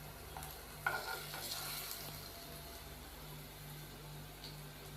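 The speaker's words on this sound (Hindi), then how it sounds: "इसी तरीके से हम जो बाकी कटलेट्स हैं उनको भी हम आहिस्ता से पलट देंगे।" Beef shami kebab cutlets sizzle steadily in a frying pan as they are gently turned over one by one, with a sharp clack early on and a continuous close hiss throughout.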